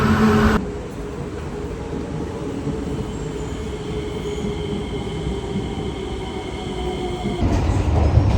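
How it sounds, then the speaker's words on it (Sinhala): Steady rumble and rattle inside a moving train in Singapore, a constant low roar with faint squeals, no voices. "අපි දැන් ට්‍රේන් එකේ යන ගමන් ඉන්නේ"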